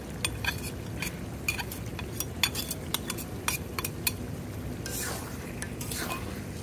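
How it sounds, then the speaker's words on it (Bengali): Lentils go into a cooking pot with meat being sautéed, followed by a metal spoon clinking and scraping against the pot in a string of sharp close taps over a low background hum. "এখন এখানে ডাল দিয়ে দিই।"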